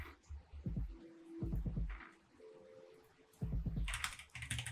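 Keys on a computer keyboard clatter in quick bursts of typing separated by short pauses, close and moderately loud.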